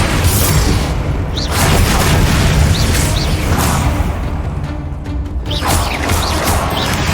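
Booming, crashing spell blasts from Confringo in Hogwarts Legacy, loud and continuous with rumbling low end and intermittent bright crackles and whooshes throughout.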